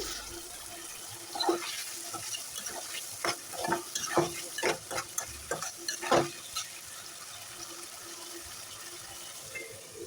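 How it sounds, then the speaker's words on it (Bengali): Potatoes frying in spices in a pan for a Bengali spinach and fish dish, with a spoon stirring through them in short scraping bursts over a soft continuous sizzle, close and moderately quiet. "সব মশলার সাথে মিশিয়ে নেবো তো কয়েক মিনিটের জন্য ডেকে দিয়ে আমি আলুটা ভালোভাবে কষিয়ে নেব"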